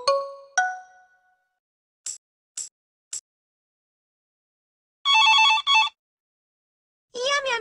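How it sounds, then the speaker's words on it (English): A telephone rings in a cartoon setting: two bright rings at first, then three short chirps, then a longer warbling ring burst and another near the end, clear and close against silence. "Which shape is the phone under?"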